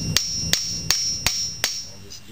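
Five sharp metallic hammer taps on a Mopar wheel center cap at a steady, unhurried rhythm, close and ringing briefly, with quiet background between strikes.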